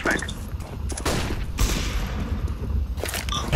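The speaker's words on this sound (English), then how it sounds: "I'm throwing a flashbang." Explosive game sounds from a Counter-Strike match on the Dust2 map, with a flashbang grenade going off amid dense gunfire bursts. The sounds are loud and continuous, with voices talking over them.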